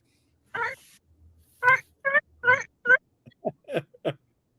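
A voice imitates a turkey gobbling outdoors, giving a series of short, warbling, throaty bursts of uneven length and spacing, moderately loud and close.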